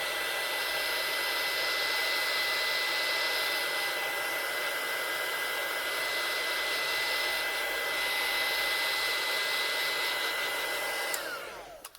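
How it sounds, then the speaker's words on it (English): A hair dryer drying paint blows steadily at close range with a constant whirring roar and high whine, then switches off and winds down at the end. "Do you enjoy the drying noise?"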